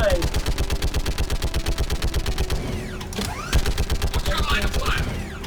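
Rapid automatic gunfire from the sci-fi shooter Mass Effect 3 Legendary Edition rattles in a fast, regular burst, pauses briefly amid other game effects, then resumes, loud and close.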